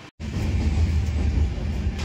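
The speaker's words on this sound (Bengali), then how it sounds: "দমদম ছাড়ার পর থেকে মারাত্মক স্পিডে চলছে ট্রেন" Loud, steady low rumble of the Sealdah–Malda Town Gaur Express with new LHB coaches running fast past Barrackpore, heard from on board, starting after a split-second cut.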